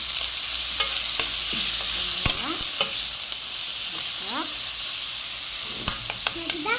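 Meat with garlic, turmeric, salt and black pepper sizzles steadily in a pan, a constant close frying hiss broken by repeated scraping stirs and a few sharp utensil knocks.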